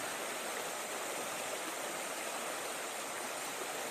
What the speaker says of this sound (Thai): น้ำเย็นสายสะอาด